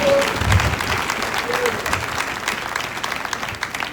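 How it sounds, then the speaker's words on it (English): Audience applause at a university inaugural lecture, a steady wash of clapping from a seated crowd that continues throughout, fairly loud and close, with scattered voices underneath. "I expect that applause to be louder."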